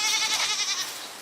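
A goat gives a single drawn-out, wavering bleat, loud and near, fading toward the end.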